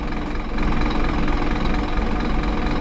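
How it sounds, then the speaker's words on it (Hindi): A powerful Scania 8x8 bus engine idles in a driving game, a dense, steady low rumble with a constant mechanical hum, loud and unbroken with no voices. "इन्होंने इंजन भी पावरफुल दिया भाई"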